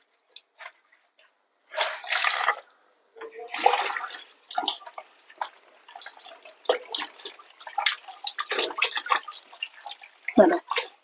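A towel soaked in rice water is washed by hand, with irregular splashes, drips and wet sloshing at close range, broken by short quiet gaps.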